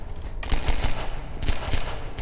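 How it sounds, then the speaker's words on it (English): Two loud gunshots ring out in Garry's Mod, the second about a second after the first, amid rough in-game background noise. "Two shots."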